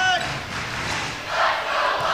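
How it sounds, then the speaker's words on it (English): Loud cheering and yelling from the crowd in a gym during a girls high school volleyball state final, a roaring wash of voices that dips briefly and then swells again toward the end. "That crowd is getting loud."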